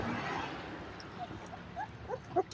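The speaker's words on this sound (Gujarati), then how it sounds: "આ કૂતરી છે એના ગલુડા છે બધા ગલુડા જો દૂધ પીવા માંડ્યા છે" Several puppies drink milk from a plate beside their mother dog, letting out faint, scattered high whimpers and yips over a quiet outdoor background.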